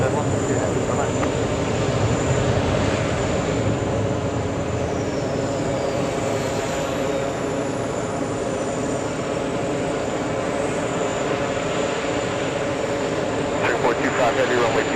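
Airliner taking off from runway 22 right at JFK airport on a hot day, a loud sustained jet engine roar throughout, with radio voices and talk mixed in.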